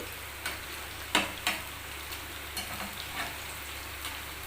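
Chicken chilli bondas frying in oil, with a low constant bubbling sizzle and a few sharp scraping or turning clicks, fairly quiet and with no talk.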